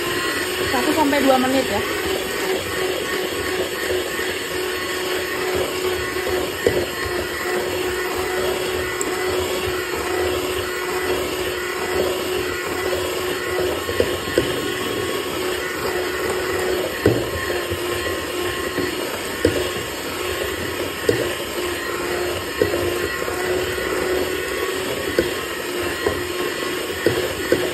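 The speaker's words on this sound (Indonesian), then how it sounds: "Ini mau langsung aku mixer dengan kecepatan rendah aja ya." Electric mixer running steadily at low speed through donut dough, a continuous motor whir lasting throughout, with someone talking over it at times.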